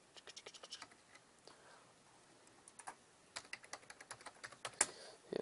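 Quick, light clicks of typing on a computer keyboard, irregular keystrokes in short bursts, close and fairly quiet with no talk.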